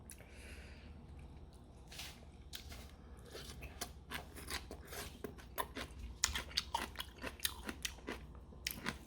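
Sweet potato stem kimchi is chewed close up with repeated crisp, wet crunches and squishy bites in an irregular rhythm, with no talking.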